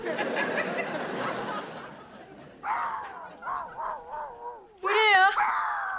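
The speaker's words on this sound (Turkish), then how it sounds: "Böyle cırtlak köpek sesi mi olurmuş?" A puppy gives shrill, squeaky yips in short bursts, high and almost bird-like, following a stretch of chatter and sounding close and fairly loud.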